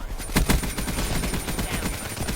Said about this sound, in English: he's using the Man of War too. Can't really beat it. It's a beast of an assault rifle